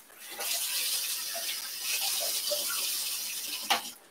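Tap water runs into a half-cup measuring cup in a home kitchen, a steady close splashing gush lasting a few seconds before a small clink at the end.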